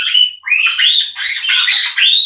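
Blue ringneck parrots calling, a run of loud, close, harsh squawks and chattering whistles in quick succession with short breaks between phrases.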